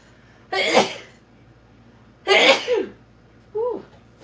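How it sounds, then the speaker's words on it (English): A woman sneezes indoors during a paint-and-breathe livestream: two sharp, close sneezes a couple of seconds apart, each with a breathy intake, then a smaller throaty catch at the end. "I'm going to sneeze again."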